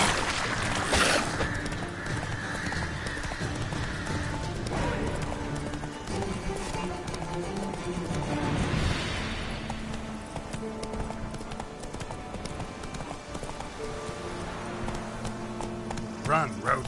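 Roach, Geralt's horse in The Witcher 3, gallops with a rhythmic clip-clop of hooves, close and steady, under game music, with a voice speaking over it.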